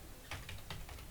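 Quick typing on a computer keyboard while entering a folder name for HTML examples, a handful of soft, close key taps over a faint hum, without speech.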